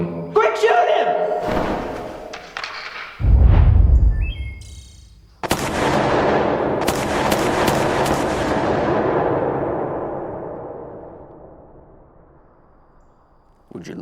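In an animated shootout, gunshots ring out as a sharp, loud blast followed by a rapid cluster of cracks that trail off into a long decaying echo, amid other cartoon sounds.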